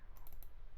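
Several quick, faint mouse clicks made while selecting notes in Ableton, close and soft over a low background hum.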